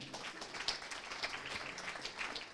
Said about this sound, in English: I'd like you to clap for yourself for being here.